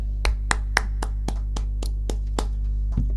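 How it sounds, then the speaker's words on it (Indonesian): Hands clap in a steady, even beat during a church worship service, about ten sharp claps in a row over a low steady hum, with no talking. "Beri tepuk tangan yang meriah untuk Tuhan kita yang dahsyat."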